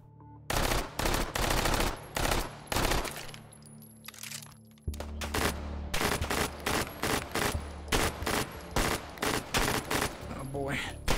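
SMG gunfire in the VR shooting game H3VR, with loud, close bursts of rapid automatic shots in repeated strings, a short pause, then more volleys, and a voice talking at times.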